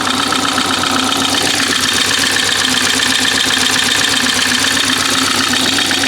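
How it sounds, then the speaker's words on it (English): A BMW 4 Series idles after start-up while smoking and running a bit shaky, giving a loud, steady, close engine drone with a fast ticking, knocking texture throughout. "The car sounds alright, but it's a bit shaky."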